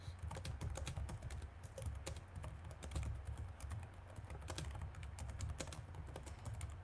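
Rapid, continuous clicking of fingers typing on a computer keyboard, steady and fairly faint over a low background rumble, with no voices.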